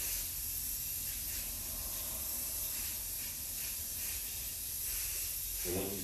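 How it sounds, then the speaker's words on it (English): A steady, faint hiss of clear coat being sprayed onto a TV tray table, continuous with slight pulsing, close up and with no voices. "And when you spray your clear coat,"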